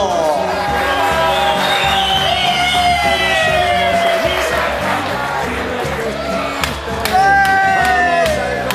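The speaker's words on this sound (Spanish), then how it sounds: "Fuerte los aplausos para los campeones, los Corvineros" A large outdoor crowd at a catch-and-release fishing tournament in Pilar, Paraguay cheers, whoops and shouts continuously for the winning team. Loud, sustained roar with a few sharp claps and yells near the end, and a voice calling out over it.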